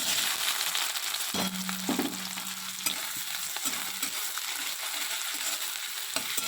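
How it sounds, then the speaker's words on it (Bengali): Onion frying in a pan crackles with a dense, constant sizzle and is stirred with scraping sounds, plus a few short tonal clinks, with no talking. "একটু লাল লাল করে ভাজি এটা পেঁয়াজটা একটু গলে যাবে বলে"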